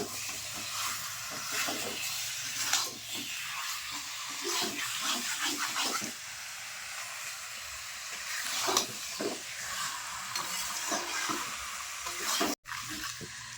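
Chicken pieces for chicken kosha are stir-fried with spices, giving a continuous close sizzle with repeated scraping and stirring strokes of a spatula throughout, and one brief cut-out near the end.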